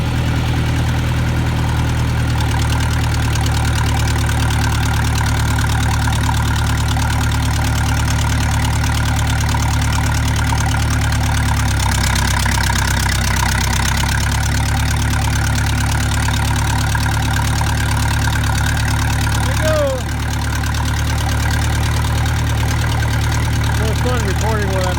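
A vehicle engine runs steadily while driving across a farm pasture with cattle, a constant loud low hum throughout, with a voice speaking briefly over it.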